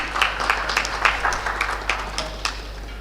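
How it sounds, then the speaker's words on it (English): At an urban infrastructure summit held at a rail and transport expo, an audience applauds. The clapping is moderate and slightly uneven, with distinct individual claps standing out over a low steady hum, and it keeps going for about three seconds. "Can we please have a big round of applause?"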